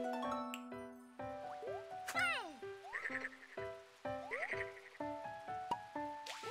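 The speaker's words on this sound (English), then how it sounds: "It's a frog tongue." Springy frog tongue sounds in Kirby's Epic Yarn, a series of short bouncy boings and quick swooping zips over plucked game music, evenly repeated.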